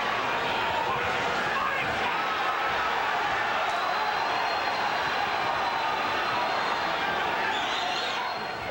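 A dense, continuous roar from an enthusiastic boxing crowd at Caesar's Palace during a Hector Camacho bout. Loud and steady throughout, with a ringside commentator talking over it.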